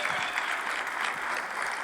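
A church congregation applauds together, a steady dense wash of clapping that holds at an even level from start to finish, with a faint voice now and then beneath it.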